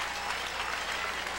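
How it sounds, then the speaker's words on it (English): A crowd at a 1994 high school boys swimming and diving state finals applauds with a steady, dense wash of clapping that holds evenly throughout, with no break. "He gets a big hand as he waves to the crowd."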